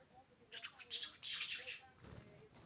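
A pet budgerigar at home lets out a quick run of bright chirps and a scratchy chatter, faint and close, ending in a low rustle.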